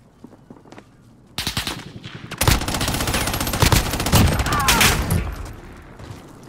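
Automatic gunfire in the Warzone battle royale game, with a quiet start and then dense, sustained bursts of rapid shots from about 1.4 seconds on, loud and close, with faint footsteps mixed in.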